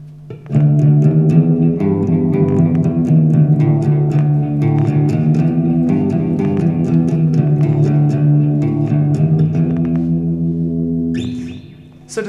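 A moody electric guitar riff plays with a shimmering chorus effect, a steady repeating single-note line that is loud and close with no talk, fading out before a brief noise at the end.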